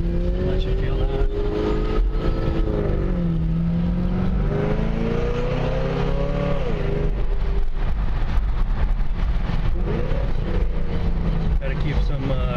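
A supercharged 2010 Camaro 2SS in Inferno Orange with a Magnuson supercharger accelerates under manual paddle-shift control, its engine note rising and falling through gears, loud and continuous from inside the car with talking over it.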